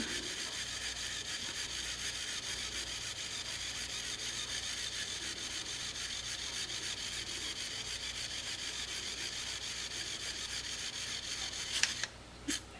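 A handheld 3D pen extrudes plastic with a steady, thin mechanical whir that runs continuously at low volume, ending with a couple of small clicks.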